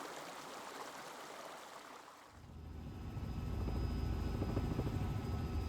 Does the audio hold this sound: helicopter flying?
yes